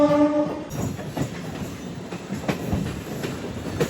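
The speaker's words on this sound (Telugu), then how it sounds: "ఆ జంక్షన్ రైల్వే స్టేషన్లో వచ్చే ట్రాక్ సౌండ్లు ఉంటాయి, అబ్బా భలే ఉంటాయి అసలు" Wheels of a MEMU passenger train clatter over junction tracks, rhythmic clickety-clack thumps rolling past close by, with a brief high horn tone at the very start.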